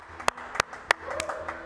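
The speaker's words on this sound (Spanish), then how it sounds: "Un aplauso para Gerardo Ulloa, que consigue el título" A few sharp, separate hand claps ring out in a TV sports studio, spaced roughly a third of a second apart, close and crisp over a quiet room tone.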